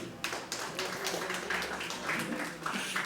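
An audience at an open mic poetry event claps in a short, scattered burst of overlapping hand claps, moderately loud and fairly close, with no voices over it.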